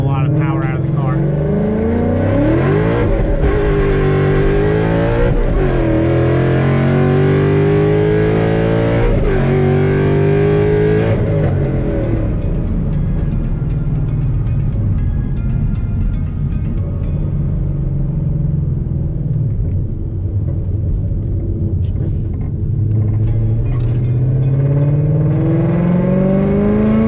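A Procharged 5.0 Mustang with traction control on accelerates hard in first gear, its engine rising in pitch through repeated surges and then settling to a lower rumble, heard loudly from inside the car.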